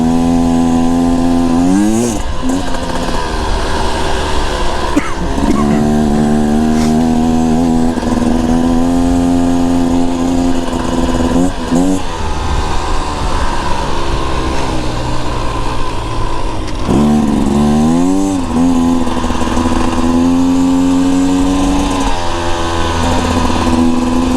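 A 2024 Beta Xtrainer dirt bike riding through sand on a mountain adventure ride, engine droning loud and close throughout with repeated rising revs and throttle blips as the rider fights for traction.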